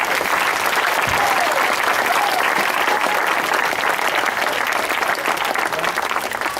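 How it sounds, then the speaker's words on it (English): A large audience claps loudly and continuously in a dense, even wash of applause at a sports gathering, holding steady from start to finish without a break. "Can we have a round of applause for putting this together for Mukund?"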